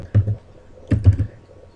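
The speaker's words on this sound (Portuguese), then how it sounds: "Então vamos para a parte legal, digitar." Keystrokes on a computer keyboard while C/C++ code is entered, two short bursts of several quick taps each, close and fairly quiet, with a pause between and no talking.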